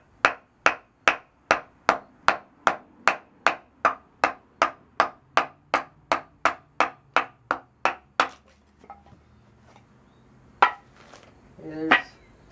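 Sharp rhythmic strikes as a baton drives a Ka-bar Becker BK-9 knife through wood, about twenty evenly spaced close knocks, then a few scattered taps and a brief voice.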